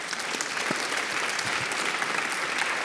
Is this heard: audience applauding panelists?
yes